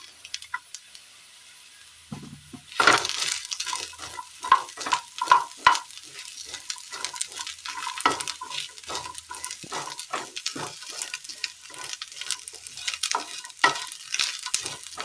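Chopped jackfruit and onions fry in a pan for a Kerala curry, sizzling softly while a spoon stirs and scrapes the pan in repeated close clinks and scrapes after a quieter opening.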